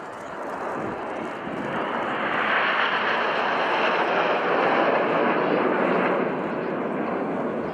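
A display aircraft flying at an airshow gives a broad, roaring engine wash that swells louder in the middle, then fades slightly, with no clear voices over it.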